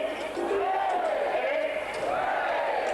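Crowd of hospital staff and well-wishers gathered around the wards sending back a distant, sustained cheer, broad and steady throughout with voices rising and falling together.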